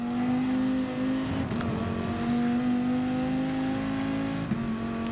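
A race car engine in a racing video game holds a steady, loud drone at high RPM with slight pitch shifts, continuous and alone without talk.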